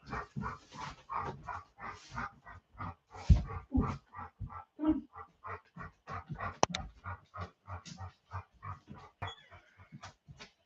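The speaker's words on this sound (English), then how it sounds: "I gotta let this dog out." A dog pants indoors with fast, rhythmic, breathy puffs that repeat steadily, close to the microphone, with a few louder snuffles mixed in.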